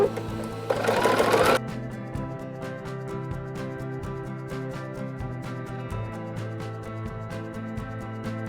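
A sewing machine stitches quilt block seams for an Ohio Star setting block, a steady near mechanical whirr running through most of the stretch after a brief louder burst near the start, with no talking.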